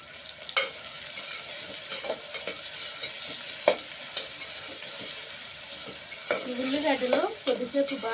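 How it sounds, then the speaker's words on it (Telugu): Sliced onions sizzle and fry in hot oil for a restaurant-style mutton kurma, a steady close hiss with occasional stirring clinks and scrapes, with no voices. "ఇప్పుడు ఉల్లిగడ్డలు వేసుకుంటామండి"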